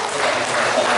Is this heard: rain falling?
no